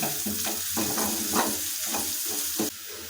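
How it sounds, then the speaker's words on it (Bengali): Onion and garlic spice mix sizzling in a frying pan, a close steady hiss of hot oil broken by rhythmic scraping stir strokes, no speech. "সম্পূর্ণভাবে আমাদের পেঁয়াজটা ভালোভাবে ভাজা হয়ে গেছে"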